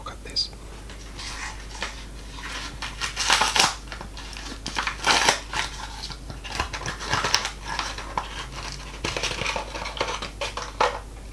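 Soft, foamy Japanese candy shaped like an ice cream is broken apart and handled, making close, quiet crumbly crunches and rustles in irregular bursts, with whispered speech woven between them.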